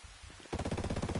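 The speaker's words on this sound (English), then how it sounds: "Someone's shooting at me." Rapid automatic gunfire in the video game Ghost Recon Breakpoint during a PvP match, a quiet lead-in followed by a loud, dense burst of repeated shots.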